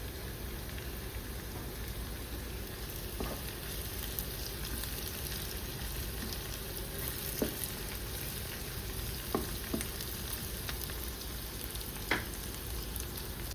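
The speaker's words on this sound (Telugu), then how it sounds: "ఈ ఉల్లిపాయలు వేగిపోయాయి." Onions fry in a pan with a continuous, even sizzle and a few faint clicks of stirring, close and alone with no talk.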